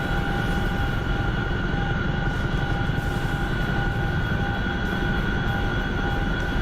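Chinook helicopter in a video game, a steady, loud rotor-and-engine drone with tonal whine that holds constant throughout, no voices.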